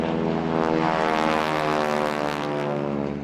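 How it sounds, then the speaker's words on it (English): A Stearman biplane with a Pratt & Whitney radial engine turning a large propeller buzzes loudly and steadily nearby at a seaside airshow, a dense droning hum with no voices. "This radial engine gives the Stearman its characteristic buzzing sound."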